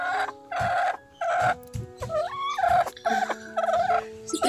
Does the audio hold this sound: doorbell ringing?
no